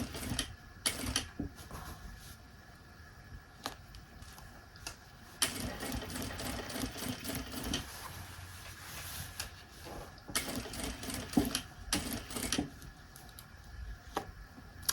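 A sewing machine top stitching a seam, running in several steady bursts of rapid mechanical ticking and whirring with short pauses between, fairly quiet and close, with no talk.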